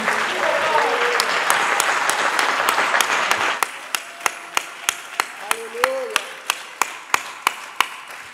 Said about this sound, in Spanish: podemos darle un aplauso más fuerte